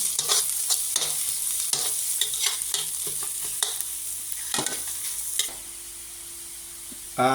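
Raw garlic and shallots stir-fry in a hot pan. A bright, constant sizzle is broken by repeated sharp scraping and tapping strokes from the spatula, then the sound eases to a steadier hiss near the end.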